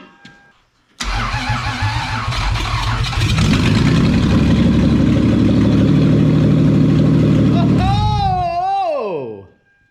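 A Toyota MR2 Spyder's swapped-in 1MZ V6 with a new exhaust and no coolant cranks and fires, then settles into a loud, steady idle up close; an excited voice cries out near the end as the engine shuts off.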